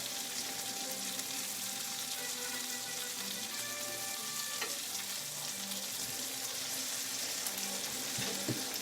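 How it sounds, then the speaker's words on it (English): Tomatoes frying in a pan with a little grease for a spaghetti carbonara sauce, giving a steady close sizzle with small pops and crackles as the tomatoes burst, and no one speaking. "a couple of my tomatoes are starting to burst"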